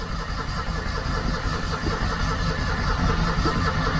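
An old Citroën 2CV engine, unused for several weeks, running steadily after starting, with a continuous loud low mechanical drone and rough rumble throughout.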